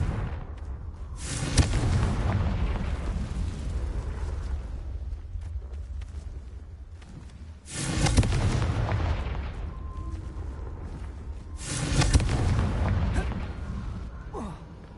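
Explosion spells cast in the video game Hogwarts Legacy, three separate loud blasts spaced a few seconds apart, each with a bright burst that fades into a rumbling tail.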